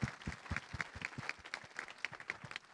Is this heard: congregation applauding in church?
yes